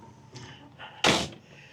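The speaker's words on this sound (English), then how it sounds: "Oh, close this door, we don't want flies." An RV door swings shut at a campsite with a single loud slam, preceded by quieter rustling and handling noises, with no talking.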